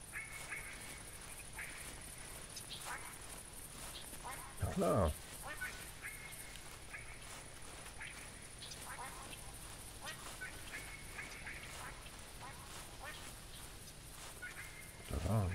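Ducks quack in the hunting video game The Hunter, with short calls scattered across a steady background of game ambience and a sharper burst partway through, while someone speaks quietly over the scene.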